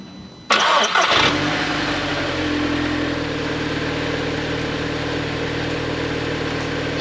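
An Audi TT engine cranks briefly and catches, then settles into a steady, rumbling idle that continues to the end.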